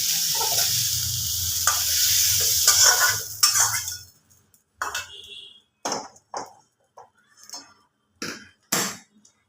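Fried soybean chunks sizzle in a hot wok while a spatula scrapes and stirs, then the frying stops and a series of separate, sharp scoops and clacks follow as the pieces are lifted out and dropped into a bowl.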